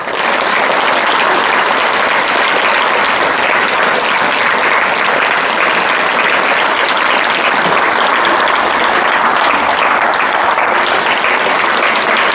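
Sustained audience applause fills a hall at a Tamil talk for parents and daughters, dense steady clapping from a large crowd, loud and close, running unbroken with no speech over it.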